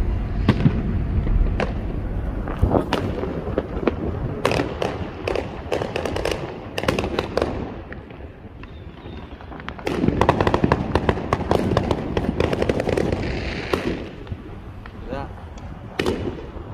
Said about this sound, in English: We have some baby fireworks going on.